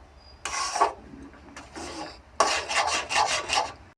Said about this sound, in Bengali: ঘাঁটতে ঘাঁটতে এবার কিন্তু ঘন হয়ে এসেছে কিন্তু আরও একটু নাড়তে হবে এখনও